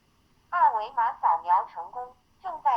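A Xiaomi Small Square smart WiFi camera speaks recorded voice prompts during setup, a clear synthetic voice in short phrases with a brief pause before it continues.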